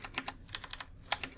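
Computer keyboard keys tap in a quick, uneven run of about a dozen light clicks, close to the microphone and fairly quiet, with no talking.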